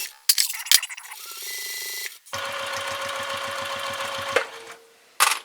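A sewing machine stitches cotton thread on a quarter-inch seam for a pillow, running steadily with a fast rhythmic whir for about two seconds, pausing briefly, then continuing a longer run before stopping, close and fairly loud.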